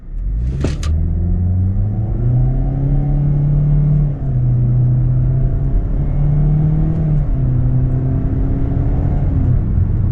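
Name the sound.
2026 Kia Seltos S AWD accelerating, shifting simulated IVT gears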